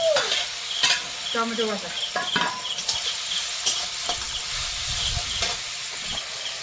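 Onions sizzling and frying in a pan on a home stove, with steady crackling hiss, occasional stirring scrapes and clinks of a spoon against the pan, and brief talk in Bengali over the cooking noise.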